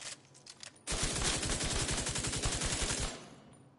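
Gunfire in The Division 2, a loud sustained burst of automatic fire lasting about two seconds after a few faint preceding clicks, then a short echoing tail as it stops.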